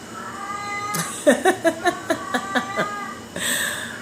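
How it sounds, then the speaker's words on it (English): A cat meows in a rapid series of about eight short, strained cries close by, followed by a longer drawn-out meow. "so y'all gotta excuse the noise of the cat"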